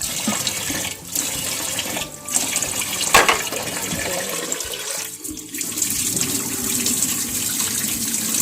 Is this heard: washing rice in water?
yes